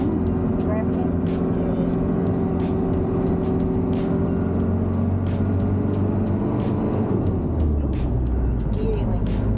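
A car labouring up a slow, winding, rough uphill road in the Grampians, its engine droning steadily close by while gears are changed, with people talking over it throughout.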